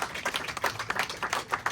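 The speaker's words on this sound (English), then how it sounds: "let's give ourselves a round of applause." A group of people clapping together, a dense patter of applause that holds steady throughout without any voices.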